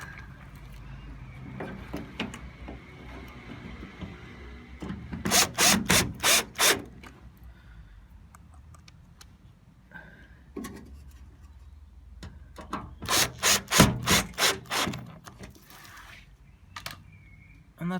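Screws being driven in to close up a Hoover HNL2126 vacuum cleaner, two close bursts of rapid ratcheting clicks separated by quieter handling and rubbing noises.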